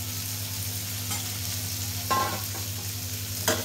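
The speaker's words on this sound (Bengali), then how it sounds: "তো এখন আমার মশলা কষানো হয়ে গেছে" Shrimp and spices frying in a pan, a steady soft sizzle with a steady hum beneath, broken by two brief bursts of scraping as the mix is stirred.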